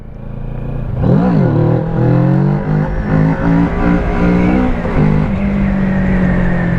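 A Kawasaki Z650 motorcycle engine revs up loud and close, the pitch climbing through several gear-like steps before settling into a steady drone.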